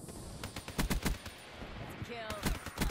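Man-O-War assault rifle firing in Black Ops 3, several separate quick shots and short bursts at moderate loudness, spaced irregularly over game background noise with some voice-like sound mixed in.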